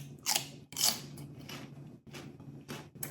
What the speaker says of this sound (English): I love the crunchiness, the crunchy bite that it has.